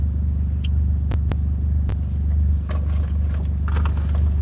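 A car engine rumbles through an aftermarket exhaust tip, a loud, deep, steady idle throb with a few sharp clicks and light jangling over it.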